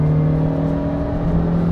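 A Peugeot 106 Rallye engine hums steadily from inside the car with the windows closed, a continuous tonal drone with no talking.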